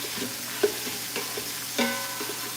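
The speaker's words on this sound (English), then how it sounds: "my sausage are sauteing" Sausages sautéing in a pot give a steady gentle sizzle, broken by a few louder clinks and scrapes of stirring.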